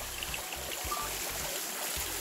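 A small waterfall in a mountain valley stream near Gapyeong, Gyeonggi-do, sends out a steady, broad rush of water that carries on without a break, with low, uneven thumps underneath.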